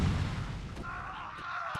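Siege tank cannon fire in the StarCraft video game, a heavy booming blast at the start that decays into a lingering rumble, followed by fainter distant impacts.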